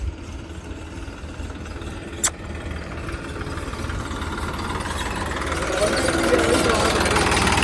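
A tractor engine idles with a low, steady rumble that slowly grows a little louder; a sharp click cuts through briefly.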